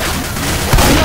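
Gunfire in the Left 4 Dead 2 video game, a dense continuous burst of shooting with a heavier boom near the end, loud and sustained throughout.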